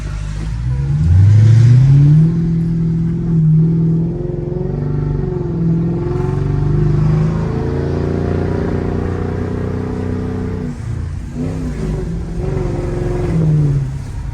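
Mercedes SL500 V8 accelerating with the windows rolled partly down, heard from inside the cabin: a loud, rising engine drone with a strong surge near the start, then a steady pull with gear changes, and traffic noise.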